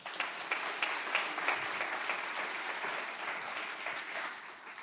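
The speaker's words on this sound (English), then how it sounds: "let's give everybody a round of applause" Sustained audience applause fills the room at an evening grief summit introduction, dense steady clapping from many hands that holds at an even level throughout with no talk over it.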